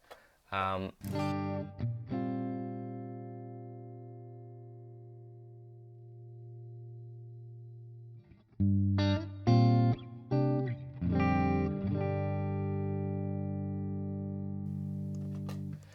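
An electric guitar plays through a Fractal FM9 modeler set to a London plate reverb. Two separate chords ring out and decay slowly into a long, smooth reverb tail, each followed by a few shorter stabs. The guitar is heard alone with no talk.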